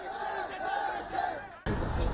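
Protesters shouting insults as they leave the grounds of a political party office, a loud crowd of voices yelling together, with a sudden jump to harsher, louder noise near the end.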